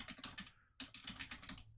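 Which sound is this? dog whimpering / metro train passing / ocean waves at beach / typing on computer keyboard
typing on computer keyboard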